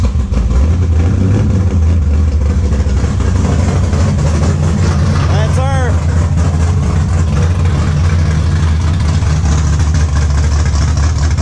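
A cammed, straight-piped 500+ horsepower Camaro V8 idles close by with a deep, loping, uneven burble that holds steady and loud throughout, with no one talking.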